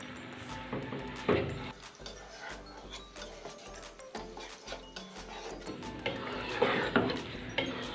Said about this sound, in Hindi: दो से 3 मिनट के लिए मैं इसको हिलाऊंगी मिक्स करके